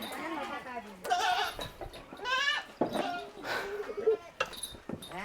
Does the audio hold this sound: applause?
no